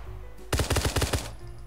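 Machine gun fire in the shooting game Knives Out: a single tight burst of about eight rapid rounds, loud and close, cutting in abruptly and stopping after under a second against quiet background.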